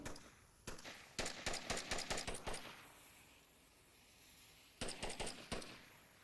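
Rapid bursts of gunfire in the VR shooter Onward during a competitive match, with two clusters of sharp, closely spaced shots separated by a quieter stretch, fairly close and loud with no talk.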